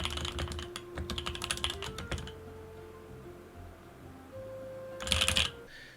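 A faulty computer keyboard clatters with quick, close bursts of keystrokes over the first two seconds. A short flurry of keys comes again near the end, with a faint steady electronic tone in the quieter gap between.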